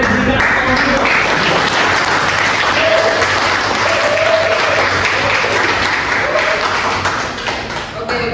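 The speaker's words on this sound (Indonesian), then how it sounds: "Boleh diberikan aplaus." Sustained applause from a campus talk-show audience at the close of the event: dense, steady clapping that fills the room, then thins and fades near the end.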